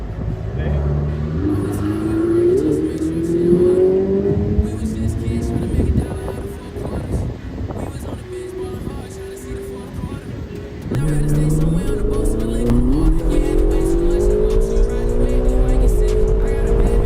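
Ferrari sports car accelerating hard on a racetrack, engine revs climbing in repeated rising sweeps with gear changes, loud and close from inside the car, with a voice talking over it.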